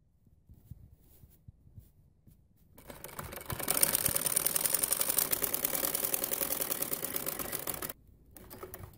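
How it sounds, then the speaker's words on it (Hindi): A sewing machine stitches around the edges of an embroidered linen kameez, a fast, steady mechanical whirring and clatter that starts after a quiet pause, runs for about five seconds close up, then stops. "अब इसी तरह मैं चारों तरफ इसको सिलाई लगाती जाऊंगी।"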